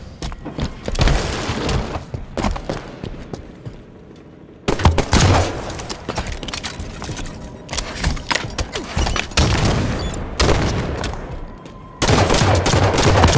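Loud, rapid gunfire in the Halo 5 video game: repeated bursts of shots and impacts, broken by brief near-silent gaps, with dense firing resuming after each pause.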